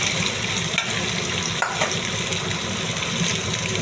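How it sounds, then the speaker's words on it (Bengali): Potatoes fry in hot oil with cumin and bay leaf, a dense, steady sizzle and hiss with small crackles, close and loud, continuous throughout with no voices. "তেল গরম হয়ে গেছে দেখুন আমি এবারে আলুটা আস্তে আস্তে করে ছেড়ে দেবো"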